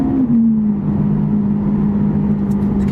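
A Lamborghini Aventador SV engine holds a loud, steady droning pitch under acceleration, close and dense, with a faint rise near the end and no talk over it.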